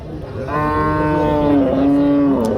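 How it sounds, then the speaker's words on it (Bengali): A single loud, close moo from cattle at the Barobazar market, drawn out with a slight dip in pitch and held for nearly two seconds. "এই যে গরুটা আপনারা দেখতে পাচ্ছেন বারো বাজার হাট থেকে ডবল বডির গরু"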